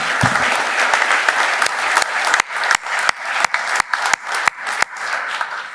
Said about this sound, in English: give our employees a round of applause